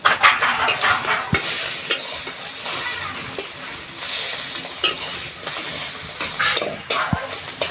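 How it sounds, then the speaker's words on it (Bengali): An egg frying in hot mustard oil in an iron wok, a loud bright crackling sizzle with frequent scraping stirs and spatula knocks against the metal, busy and close throughout. "তেল গরম হয়ে গেছে, ডিমটা দিয়ে ভেজে নেব।"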